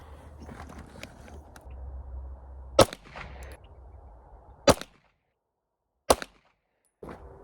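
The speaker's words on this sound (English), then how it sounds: "We're gonna shoot 1 more 3-shot group with the Hornady 115 grain XTPs." Three sharp pistol shots from a Browning High Power firing Hornady 115 grain XTP rounds at an outdoor range, spaced a couple of seconds apart over a low background rumble, with a fainter fourth crack at the end.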